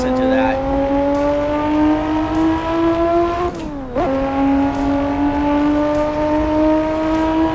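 A Lotus race car with a V6 engine in the racing game Assetto Corsa holds a loud, steady drone throughout, dipping briefly on a gear change and then climbing again, with faint tire noise underneath.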